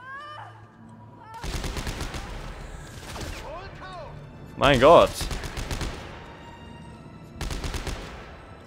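In the video game Dead Space 3, bursts of rapid gunfire crackle in short, loud volleys. Quieter game effects come between them, and someone talks and exclaims over the action.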